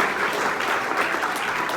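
An audience claps warmly for a guest at a motivational talk, a dense, steady round of applause filling the room with no voices over it.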